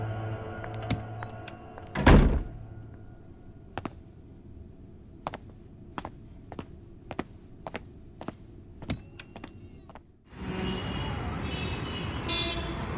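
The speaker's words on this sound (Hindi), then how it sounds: "जाते वक्त दरवाजा बंद कर देना।" A door thunks shut with one heavy, close impact, followed by scattered small clicks and knocks, then a steady rushing noise toward the end.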